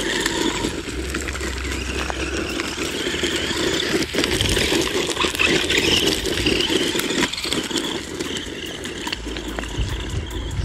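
A WLtoys 104009 RC monster truck runs over stones with a steady electric motor whine and rattling chassis, moderately close and continuous with small bumps throughout.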